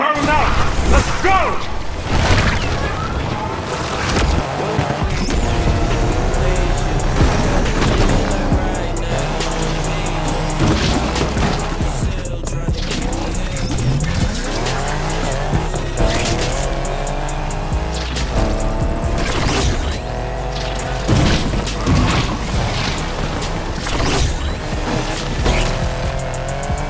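Car revving and doing a burnout in the racing video game Need for Speed Unbound, with loud continuous engine roar, rising revs and screeching tires layered under game music and effects.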